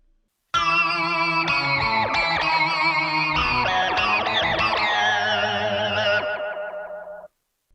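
A quirky, warbling electric guitar tone from a Fractal Axe-Fx II XL with synth-like effects, bending and wobbling through a playful melodic phrase for several seconds, loud and up front.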